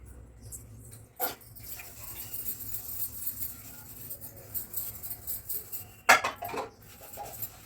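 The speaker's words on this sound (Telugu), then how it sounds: "ఇప్పుడైతే గిన్నెలు తోముకుంటున్నానండి" Dishes, pots and utensils being scrubbed and washed by hand at home, a faint steady rubbing and patter broken by two louder metallic clanks, heard close with no talking.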